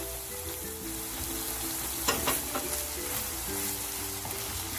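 Chopped onion, garlic, fresh rosemary and dried thyme sauté in a pan with a steady, soft sizzle, broken by a few sharper scrapes and clinks of stirring midway.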